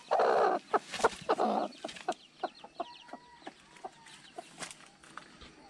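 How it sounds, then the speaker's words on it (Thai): A brooding mother hen clucking near a rural backyard garden, a burst of loud, raspy calls followed by a run of soft, irregular clucks, close and alone. "ไก่แม่กำลังฟักอยู่"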